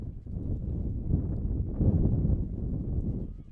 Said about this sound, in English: As the wind picks up here, you can probably hear it whistling through our microphone.